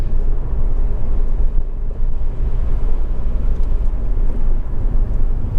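A Honda Civic 2.2 i-CTDi diesel engine runs with a steady, smooth low rumble, loud and continuous, with no speech over it.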